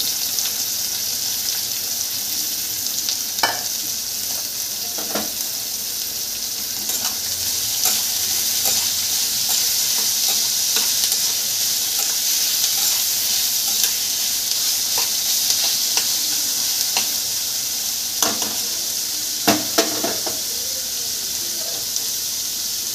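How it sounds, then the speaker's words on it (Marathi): Bitter gourd and onion fry together in a pan, giving a constant bright sizzle with sporadic stirring clacks and scrapes throughout, near and unaccompanied by speech. "मग कारली टाकून घेते म्हणजे सोबतच फ्राय होईल दोन्ही पण"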